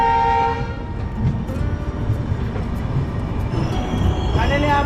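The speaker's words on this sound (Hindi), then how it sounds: "फाइनली करीब 4 दिन के बाद 78 घंटे की ट्रेन जर्नी करके अपनी विवेक एक्सप्रेस जा पहुंचती है असम के डिब्रूगढ़ रेलवे स्टेशन पे।" The Vivek Express pulls into Dibrugarh railway station in Assam with a loud, steady rumble of rolling wagons and squealing wheels, and a horn sounds at the start and again near the end.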